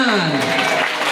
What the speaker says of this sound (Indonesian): Tepuk tangan kasih mah tepuk tangan